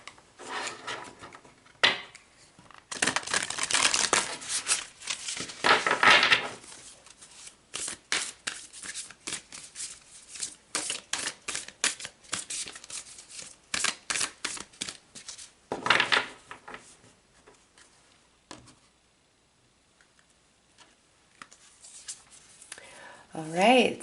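Tarot cards are shuffled and pulled close to the microphone, giving quick papery riffles and soft slaps in uneven bursts, followed by quieter handling and a few stretches of near silence.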